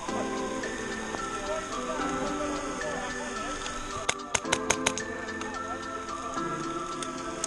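Steady rain patters on trees in woodland at an airsoft game near Southampton, with a cluster of sharp taps midway, probably airsoft pellets hitting a tree, and faint voices under the rain.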